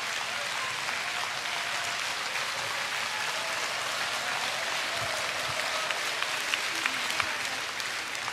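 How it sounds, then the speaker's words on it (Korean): Sustained applause from a concert audience at a Jeju 4.3 memorial concert, steady and dense for the whole stretch with a few sharper claps near the end. "여러분의 큰 박수로 청해 듣겠습니다"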